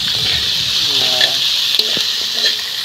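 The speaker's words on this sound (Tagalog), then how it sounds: "Sinangag na hipon sa mantika." Shrimp fry in oil with onion, garlic and ginger, giving a steady, close sizzle and crackle throughout, with brief faint voices in the background.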